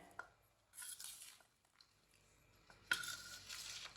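Spoon clinking and scraping against a bowl while mixing lobia chaat with chaat masala, faint intermittent stirring and metallic taps in a quiet kitchen, with no talk.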